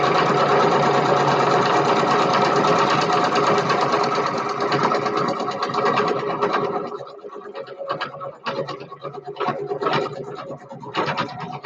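A sewing machine stitches buttonholes, running loud and continuously at first, then breaking into shorter stop-start bursts of stitching up close.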